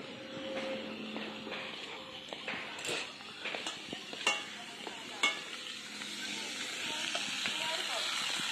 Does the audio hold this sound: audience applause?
no